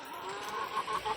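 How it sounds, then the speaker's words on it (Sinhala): Village chickens cluck softly in a two-tier coop, a brief run of low murmuring clucks heard at moderate distance with no talking. "මේකේ ඉන්නේ ගම් කුකුළු."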